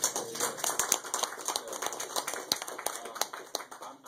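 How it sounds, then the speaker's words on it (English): Scattered applause from a modest audience at a political meeting with the South Carolina attorney general, individual claps audible as distinct sharp hits in an uneven rhythm, fairly quiet and close, with no talk over it. "Let's get a round of applause."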